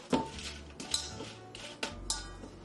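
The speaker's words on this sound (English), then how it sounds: "I'm just going to give it a little mix" Marinating shrimp stirred in a bowl with a utensil, a few light clinks and scrapes against the bowl in an irregular rhythm, close and quiet with no talk.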